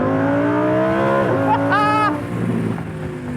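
Lamborghini Huracan Evo engine revving toward its 8,500 RPM redline, a loud, close, rising and falling wail with a quick drop and a sharp crackle of exhaust pops before settling into a steady rumble.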